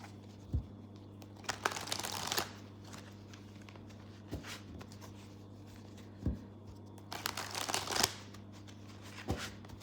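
Tarot cards are shuffled and drawn by hand at a quiet table, with short bursts of riffling and sliding card noise separated by soft taps and pauses, over a low steady hum.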